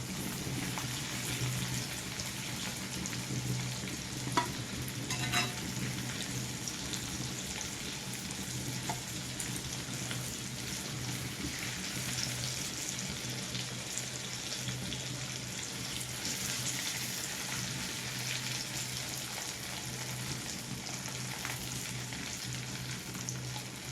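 Steady, dense sizzling of chicken pieces frying in hot oil, constant throughout with a faint occasional clink, no voices.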